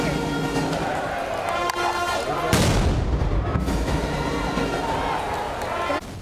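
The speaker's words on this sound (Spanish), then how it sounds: "y disparos de cañones al aire." Cannons fire into the air as military honors at a ceremony, a loud boom landing midway through dense crowd noise and speech, followed by a rumbling tail.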